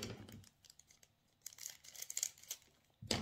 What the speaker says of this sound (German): Richtig gefährlich hier mit der Schere aufzuschneiden